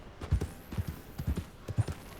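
Horse hooves clip-clopping in Red Dead Redemption 2, a steady, moderately paced walking rhythm of paired hoof falls, close and fairly soft.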